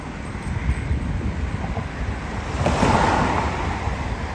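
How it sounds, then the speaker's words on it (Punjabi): Fast-flowing river water rushes in a continuous, loud, even roar near the microphone, mixed with wind noise and swelling a little toward the end, with no voices. "ਯਾ ਦਰਿਆ ਦਾ ਪਾਣੀ ਦੇਖੋ"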